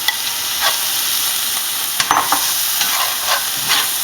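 Crushed tomatoes cooking in a pan for Moroccan chicken, giving a continuous bright hiss of frying with several soft stirring scrapes spread across it, no voices.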